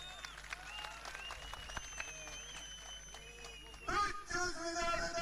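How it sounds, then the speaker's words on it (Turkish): A crowd at an outdoor oil wrestling event in Serik, Antalya bursts into applause near the end, following an announcer's amplified voice with whistling tones, the clapping loud and dense. "O zaman bir alkış istiyoruz"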